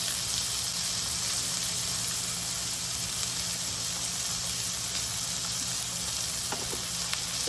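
Pot roast beef browning in a hot pan, a dense, constant hiss of sizzling fat that stays loud and steady throughout, with no talking over it.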